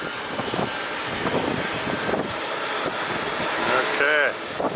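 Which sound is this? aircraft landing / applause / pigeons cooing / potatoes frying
aircraft landing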